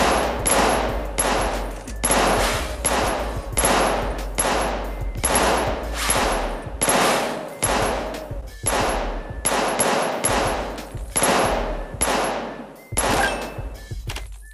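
A gun fires about thirty shots in rapid, evenly spaced succession, each report loud and close with sharp attacks and ringing decays, forming a steady burst pattern with brief gaps and no talking.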